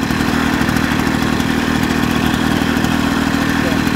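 Victa Commodore 80 series 160cc lawnmower engine running on choke, a constant loud drone with a clattering, unwavering idle throughout.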